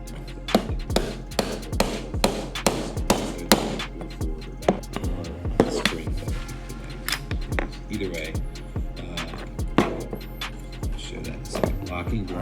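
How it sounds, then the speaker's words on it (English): Sharp metallic taps and knocks drive a pin out of the trigger mechanism of a Smith & Wesson SW9VE 9mm pistol during a rebuild. Around a dozen close, loud strikes come in a steady rhythm, slowing and thinning toward the end. "start working on the trigger mechanism and knocking out this pin"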